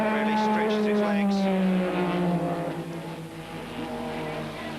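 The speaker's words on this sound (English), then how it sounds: "On the banking, the Dino's engine really stretches its legs." A Ferrari Dino racing car's engine howls on the banked track at historic races in Montlhéry, Paris, a strong rising then falling tone that fades as the car passes, with a commentator talking over it.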